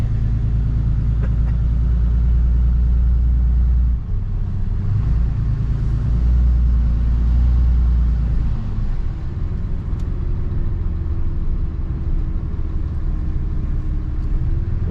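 A Ram 3500 pickup truck with a deleted exhaust drives close by, its deep engine rumble loud and continuous. The note shifts slightly as it moves, and a faint rising drone appears near the end.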